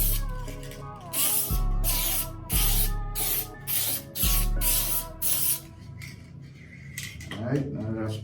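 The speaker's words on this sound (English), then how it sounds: "So what I'm going to do, I'm going to spray it." An aerosol can sprays activator onto film for hydro dipping the rear side skirts of a 2015 Dodge Charger, with about half a dozen loud, hissing bursts in a row followed by some light clattering.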